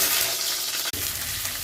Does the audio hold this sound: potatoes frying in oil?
yes